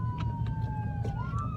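An ambulance siren wails with a steady, slightly wavering tone over a low rumbling background, fairly faint and distant.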